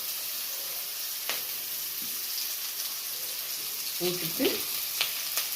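Sliced onion and curry leaves frying in oil in a pan, a faint, low sizzle with a few soft stirring clinks and scrapes near the end, while a voice speaks briefly.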